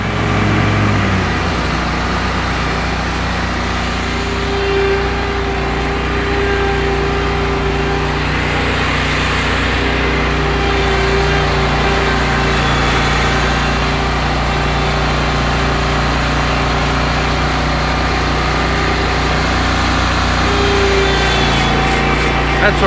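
A Honda lawn mower runs steadily with a continuous engine drone and a faint whine in a backyard. It stays loud and unbroken throughout.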